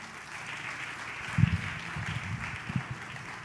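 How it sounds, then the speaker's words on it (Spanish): A church congregation applauds during a Spanish-language sermon, a soft, steady patter of clapping at moderate distance with a few louder bursts midway, and voices murmur faintly underneath. "Le damos un aplauso más al Señor"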